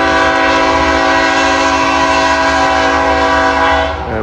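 A BNSF eastbound intermodal freight train passes close by, its horn blaring in a loud sustained chord over steady rail rumble, fading slightly at the end.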